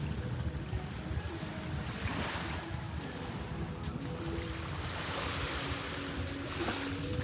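Sea waves at Ilig-Iligan Beach on Boracay, a steady soft wash of surf with gentle swells and light wind, fairly quiet and continuous, with no voices.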